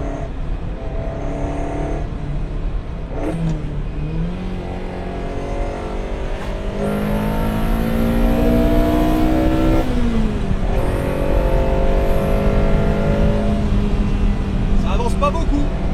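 A Ferrari 308 GTB is heard from on board, its engine note climbing steadily as it accelerates through the gears, with short dips at the shifts and a strong, continuous drone throughout.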